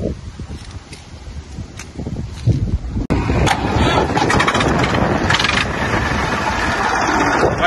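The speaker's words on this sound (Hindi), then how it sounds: "अभी हवा चल रही है बहुत ज्यादा" Strong wind blowing outdoors, a loud, steady broadband roar and buffeting that grows stronger partway through and then holds at a constant, close, rumbling level.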